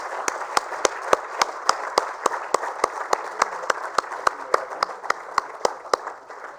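An audience at a sanitation awards ceremony claps for the winners in a loud, evenly spaced rhythm of sharp beats, steady for several seconds.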